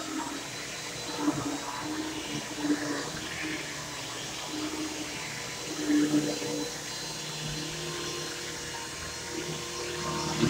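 A Bissell vacuum cleaner runs indoors with a steady whooshing drone and a whine of suction, the airflow swelling briefly a few times as it passes over surfaces, continuous throughout.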